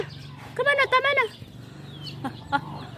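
A bird, tagged as a chicken, lets out a run of rapid chirping clucks up close, then falls quieter with a few softer calls over a steady low hum.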